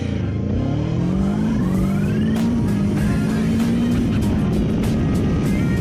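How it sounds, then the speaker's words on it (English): A 2024 Kawasaki Ninja 7 Hybrid motorcycle launching with boost engaged, its loud engine rising in pitch as it accelerates and shifts, with steady wind rush close by. "We'll do a launch, there boost"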